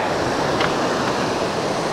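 The Quay Son River in Cao Bang, Vietnam, flowing beside a bamboo bridge: a steady, even rush of water that holds at one level for the whole stretch, with no voices.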